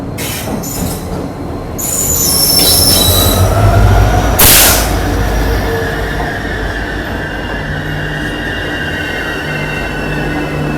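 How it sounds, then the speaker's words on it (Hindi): A Jorhat Town–Guwahati Jan Shatabdi Express pulls into platform 1 at Dimapur railway station, its wheels squealing loudly and steadily over a continuous rumble of rolling wagons, with a sharp burst of higher screech partway through. "ये देखो अभी अपनी जौहरट टाउन जन शताब्दी एक्सप्रेस आ रही है प्लेटफॉर्म नंबर 1 पर दीमापुर रेलवे स्टेशन के।"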